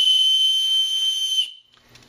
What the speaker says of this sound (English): Trailblazer 3-pack aluminum emergency whistles. Ah, hell with it, give you another demonstration.